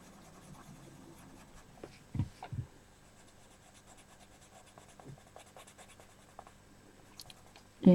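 A Derwent watercolour pencil scribbles on paper in soft, close scratchy strokes, with a few louder rubs and a sudden thump at the end.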